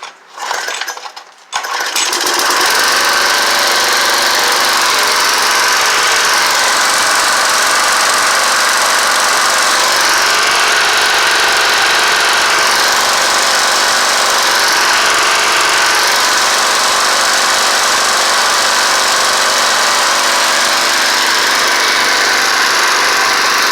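A small old gasoline engine drives a homemade DC generator, pulling a few irregular start attempts in the first couple of seconds, then settling into a loud, steady, rattling run that holds unbroken to the end.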